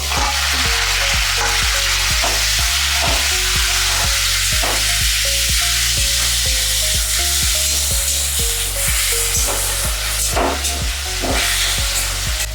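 Prawns marinated in salt and turmeric sizzling as they fry in a pan, a loud, constant crackling hiss throughout, with background music playing underneath.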